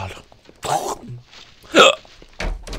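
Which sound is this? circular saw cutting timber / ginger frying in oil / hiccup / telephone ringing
hiccup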